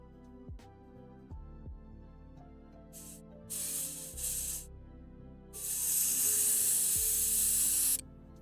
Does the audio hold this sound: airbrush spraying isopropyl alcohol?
yes